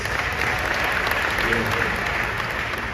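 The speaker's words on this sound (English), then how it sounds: "Let's clap it up for that." An audience at an Invest Fest 2022 talk applauds, a dense, steady roar of clapping filling the whole stretch at close range.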